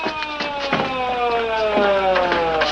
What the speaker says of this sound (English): The ambulance.